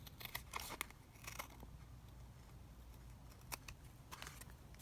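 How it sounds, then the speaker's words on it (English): Scissors snipping around a paper envelope, quiet crisp cuts in small clusters with pauses between, close by and faint, with no talk. "I'm just going to snip around the envelope."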